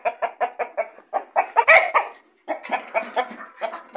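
Broiler chickens of a male breeding line, ten-month-old birds, clucking in a steady series of close, loud calls with one brief sharper squawk partway through; no talk.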